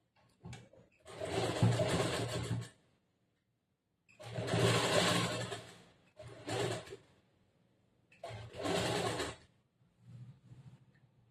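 Sewing machine stitching fabric for a churidar top, running in four bursts of a few seconds each with short pauses between them, steady and close.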